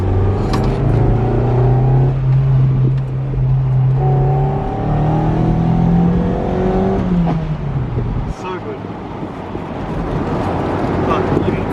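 Toyota MR2 SW20 on BC Racing coilovers driving on the road, its engine droning low and steady with pitch rising and falling through gear changes, plus tyre and road rumble, heard from inside the cabin.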